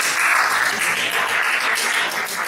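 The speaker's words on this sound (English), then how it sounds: "Give them a round of applause, please." A student congress audience in Belgorod, Russia gives steady, loud applause with many hands clapping at once throughout.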